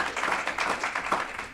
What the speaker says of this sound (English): Maybe just another round of applause.